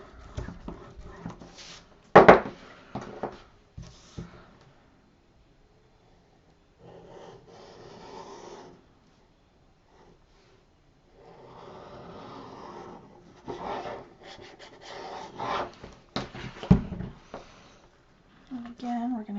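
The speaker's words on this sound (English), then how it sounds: "Come in here, burnish that down, work those fibers." Paper pressed and burnished by hand while assembling a Christmas box mini album, with scattered bursts of dry rubbing and scraping strokes between pauses, mixed with a person talking.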